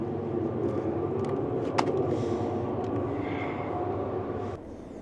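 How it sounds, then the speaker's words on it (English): A train passes at a distance near a mountain cabin, a steady low rumble and rattle that holds evenly throughout before easing off at the end. "Comes a train."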